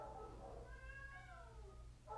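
An adult female cat gives a single drawn-out, rising-and-falling meow, faint over a steady low hum, with a brief muffled sound at the very end.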